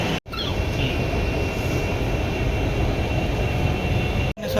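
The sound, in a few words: inside a moving Mumbai train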